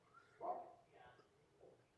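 A dog barks once near 0.5 s amid baseball broadcast commentary on MLB opening day, with a fainter yip later, both sitting under a steady murmur of background noise.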